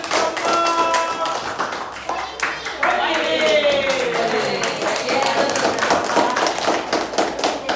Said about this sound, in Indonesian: tepuk tangan dulu untuk presentasi teman kita dari kelompok